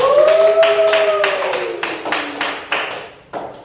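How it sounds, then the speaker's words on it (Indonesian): A class of students claps for a student group, a few scattered hand claps ringing out over a sustained tonal sound that slides downward, with the claps growing sparser toward the end. "tepuk tangan untuk kelompok 3"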